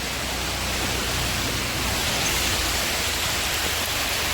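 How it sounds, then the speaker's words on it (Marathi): Heavy rain pouring down outdoors, a dense, even hiss of constant loud downpour filling the whole stretch with no voices. "एवढा जोरात पाऊस पडतोय"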